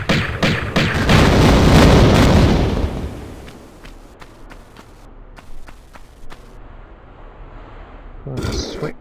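Magnum pistol fired in the Tomb Raider video game at the Obelisk of Khamoon: a rapid run of sharp cracks swells into a loud rumbling roar, then fades to scattered faint clicks and taps.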